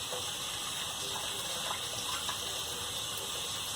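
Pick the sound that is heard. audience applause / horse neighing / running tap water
running tap water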